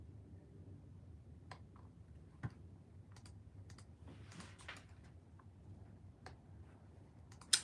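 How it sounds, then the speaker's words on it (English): Soft, scattered clicks of someone typing on a computer keyboard, quiet and close, with irregular keystrokes spread over several seconds against faint room noise. "Just typing in races for my search thing"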